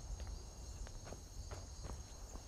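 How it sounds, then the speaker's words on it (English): Night crickets in the open world of Skyrim chirp steadily and faintly in the background, joined by a few soft footstep-like taps as a character walks along. "Here's some crickets. Crickets, crickets."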